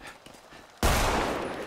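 A single loud gunshot fired in the video game GTA V during a park-ranger roleplay, bursting suddenly out of a quiet background and ringing with a sustained, echoing tail.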